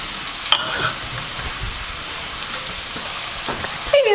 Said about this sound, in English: Add our onions, our rough chopped onions. Ooh, I love that sound.